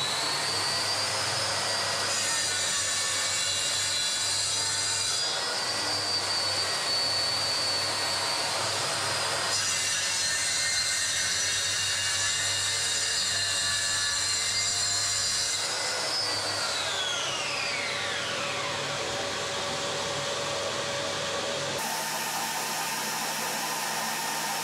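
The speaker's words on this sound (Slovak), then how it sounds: "No a prichádzame vlastne k píleniu. To znamená, zapínam si predrez" A saw with a scoring blade cuts wood while a vacuum extractor runs throughout: a loud, continuous mechanical whine and roar, with shifts in pitch as the cut goes on and a falling tone when the blade winds down.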